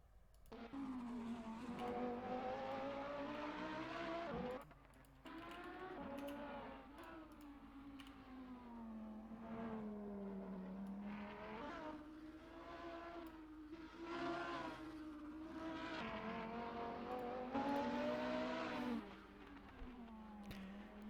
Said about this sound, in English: It's Diego on the safety car doing some laps around.